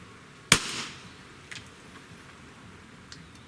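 A Beeman BP50 air pistol's trigger is pulled against a Lyman trigger gauge, giving one sharp, loud click that rings briefly. Two much fainter ticks follow later over a quiet background.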